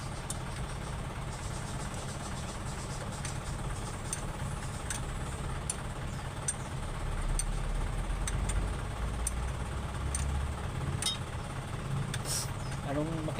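An Isuzu 4BA1 diesel engine idles at a mechanic's shop, a steady low rumble with faint clicking, while people talk nearby.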